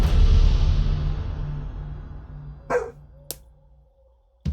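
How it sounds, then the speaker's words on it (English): A dog barks a few times from the background, with short, separate barks heard after a fading hum. "my dog's barking behind me"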